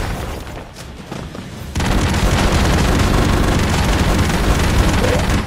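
A sudden loud blast bursts in after a quieter stretch, followed by sustained dense, crackling noise from a flashbang grenade explosion in the video game Broforce.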